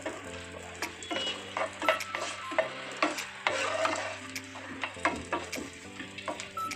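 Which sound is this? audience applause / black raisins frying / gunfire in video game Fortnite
black raisins frying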